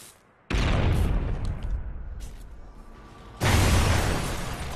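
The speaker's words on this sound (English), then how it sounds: "Throw a stun grenade!" A stun grenade goes off in a video game with two loud, sharp bursts. Each burst is followed by a ringing, hissing wash that fades out, and there is no speech.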